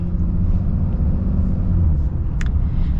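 A 2024 Ram HD Limited diesel pickup pulls away from a stop, its engine giving a loud, continuous low rumble heard up close with no talking over it.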